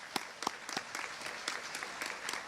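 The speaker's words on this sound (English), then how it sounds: "How about a round of applause for them?" Audience applause for the Chicopee Academy class of 2025 at their graduation ceremony, a moderate spread of scattered claps with a few sharper hand strikes standing out, steady throughout.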